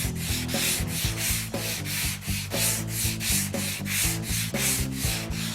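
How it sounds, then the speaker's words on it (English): A flexible sanding block with a single sheet of sandpaper rubs steadily back and forth across a light-gauge sheet metal panel, giving loud, continuous rhythmic scraping strokes close up with no talking. "Now with a single piece of sandpaper on the block, you can see it does a nice job of blocking"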